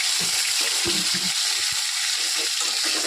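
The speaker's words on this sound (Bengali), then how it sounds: "এই মাছ ভাজা হচ্ছে" Rohu fish frying in a pan, a loud, unbroken hiss of hot oil with a few soft low knocks underneath.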